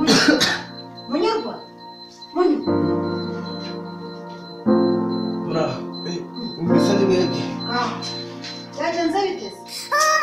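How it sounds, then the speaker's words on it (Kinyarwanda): Repeated coughing bursts in a Rwandan drama scene, mixed with voiced, throaty sounds and people talking throughout. "gukorora amahara"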